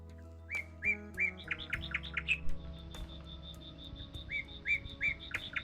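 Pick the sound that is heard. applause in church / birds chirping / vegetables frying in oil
birds chirping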